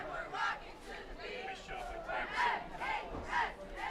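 Crowd noise at a high school football game at Montville High School, a steady roar of many voices with bursts of shouting and cheering rising and falling every second or so, fairly close and continuous.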